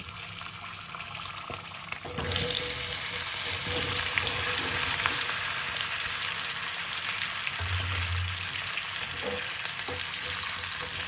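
Olive and amla pickle mixture frying in hot oil, a steady broadband sizzle running throughout and swelling louder after the first couple of seconds, with faint stirring clinks and no talk.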